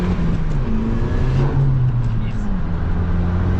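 A stage 1 tuned 2013 VW Jetta GLI accelerates hard with its tires spinning, giving a loud, steady engine drone with rising and falling tones while people talk over it.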